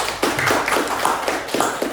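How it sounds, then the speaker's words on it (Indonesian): Classroom of pupils clapping hands together, a close, loud burst of fast overlapping claps with a few sharper individual claps standing out, continuous for the whole moment. "Tepuk tangan dulu semuanya"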